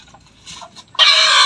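Chickens clucking nearby, a few soft low clucks followed by a sudden loud, harsh squawk that runs to the end.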